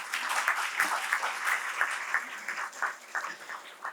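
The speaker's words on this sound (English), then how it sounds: "Please join me in applauding all our individual awardees." An audience applauds award winners at a staff excellence ceremony, brisk clapping from a modest crowd with distinct individual claps standing out, fluctuating in intensity, close and unaccompanied by speech.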